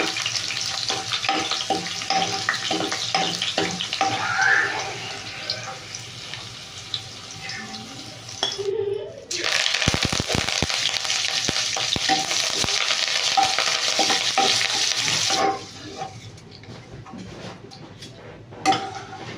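Garlic fries in oil with a dense, loud sizzle and the scrape of a stirring spoon. Partway through, the hiss swells into a bright, rushing burst and then settles back to a lower crackle.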